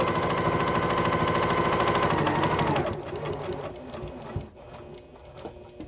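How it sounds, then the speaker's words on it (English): A sewing machine stitches a pleated fabric face mask, running in a fast, steady mechanical whir for about three seconds. It then slows and stops, leaving fainter clicks and handling noises. "And I'm going to sew all the way down."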